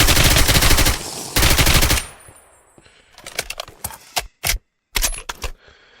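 Automatic AK rifle fire in a Minecraft gun mod, loud close bursts of rapid shots followed by shorter separated volleys and single cracks, with no talking.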